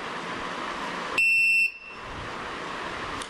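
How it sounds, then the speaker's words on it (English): A single sharp electronic beep from an RFID card reader's buzzer accepting a card, loud and close, lasting about half a second, with a faint click afterward over a quiet background hum. "If the buzzer produces a beep sound, it means that the card has been accepted for identification"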